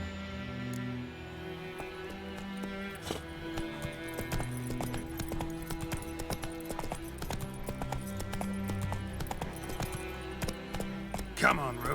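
Galloping hooves of Roach, the horse in The Witcher 3, pound in a steady rhythmic clip-clop, close and continuous, with game music and ambience underneath.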